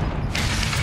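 A shotgun being picked up in a first-person shooter game, a short mechanical clack and creak of metal parts under a steady game background, close and brief.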